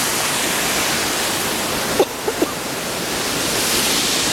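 A waterfall on the Kungsleden trail roars as loud, constant rushing water, with a few faint clicks midway and nothing else over the steady wash.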